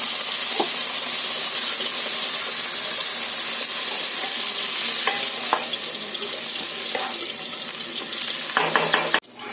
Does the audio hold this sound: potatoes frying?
yes